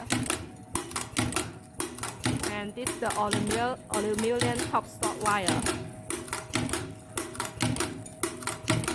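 A QLQ-TSM zipper top stop fixing machine runs with a steady, rapid mechanical clatter of repeated clicks and thumps, while someone talks over it close by.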